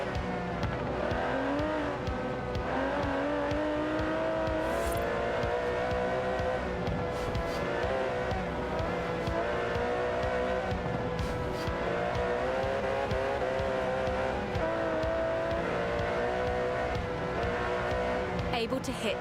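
Twin-turbo 5.2-litre V12 GT car in the Forza Horizon 4 racing game, its engine droning and revving continuously with shifting pitch and occasional tire squeal, while a person talks over it.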